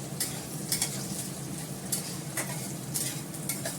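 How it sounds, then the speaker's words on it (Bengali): Sliced onions fry in a pan for a mutton curry, a quiet sizzle broken by soft, repeated scraping strokes of a spoon stirring them at an uneven rhythm. "পেঁয়াজটাকে ভালো করে একটু লাল করে ভেজে নিয়ে রসুন বাটা আদা বাটাটা দিয়ে দেবো"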